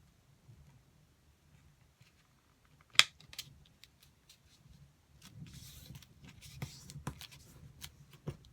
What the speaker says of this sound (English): You can just cut it out with your scissors.